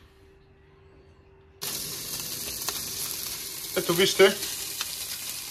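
Sea bass frying in a foil-covered pan on a stovetop burner. The sound starts abruptly as a steady bright sizzle and swells into louder crackling bursts near the end, with a brief spoken line over it.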